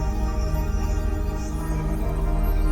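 Electronic music track with a stuttering, partly wet reverb effect, playing as a dense, steady loud mix throughout with a thick low end and no talk.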